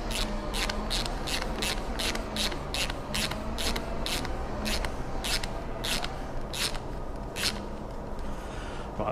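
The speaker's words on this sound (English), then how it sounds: "what I'm going to do to start with is screw this bit in here just to hold it in place" A custom lever part is screwed onto a Benelli TNT 125 motorcycle: a quick, even run of sharp ratcheting clicks repeats close by, with a faint mechanical rub underneath.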